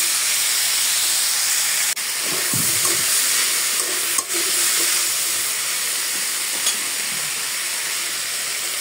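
Garlic, ginger and cumin fry with potato and cauliflower in a pan, a continuous close sizzle and hiss with a few clanks of stirring, no talking.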